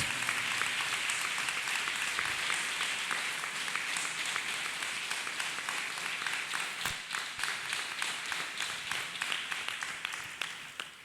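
A church congregation claps hands together during a worship service, a sustained mass of clapping that gradually settles into a more rhythmic, evenly spaced beat toward the end, with a faint murmur beneath.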